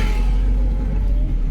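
A Nissan Magnite car's engine runs steadily, a close, continuous low rumble with a faint rev, heard from inside the car on a crowded ghat road, with no voices.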